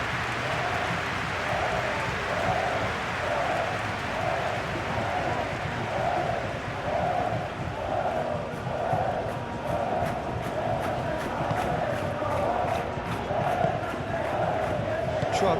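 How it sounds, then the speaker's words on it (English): Dense football stadium crowd roaring and chanting at a La Liga match between Athletic Bilbao and Real Madrid after a shooting chance, a steady loud wall of voices with rhythmic chant pulses and scattered clapping throughout. "it came to nothing in the end, but it certainly got the crowd going"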